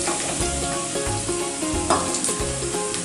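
Chopped beans dropped into hot oil with warmed garlic in a pan for prawn fried rice, giving a loud, close, steady sizzle with a few soft stirring bumps.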